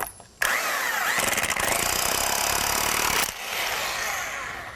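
Power impact gun driving 3-inch lag bolts with washers through a 2x into wood, a loud close hammering buzz lasting about three seconds before winding down.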